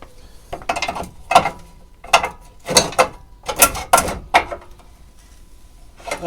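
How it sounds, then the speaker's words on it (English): A pry bar works a tight part loose during a repair, giving a series of loud metallic clanks, scrapes and ratcheting creaks in bursts, close up, then a short pause before one last knock. "Let's get me a pry bar."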